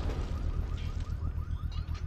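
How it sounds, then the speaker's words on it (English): A controlled bomb blast in the video game Batman: Arkham Knight, triggered with a power winch, rumbles low and continuous, with a deep pulsing boom and crackling debris over about two seconds, moderately loud. "I can use the power winch to trigger a controlled explosion"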